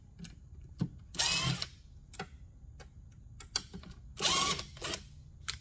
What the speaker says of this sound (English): I am using a power tool to take the screws out